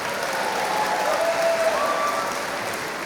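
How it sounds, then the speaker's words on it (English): A crowd applauds steadily and evenly throughout, at moderate volume, at a runway show event. "give a big round of applause for the three departments"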